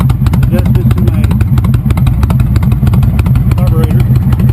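A 2005 Honda VTX 1300 motorcycle fitted with Cobra Longshots exhaust idles loudly and close by, a steady low, lumpy thumping rhythm throughout.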